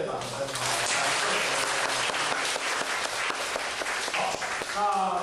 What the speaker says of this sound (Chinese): 再次以热烈的掌声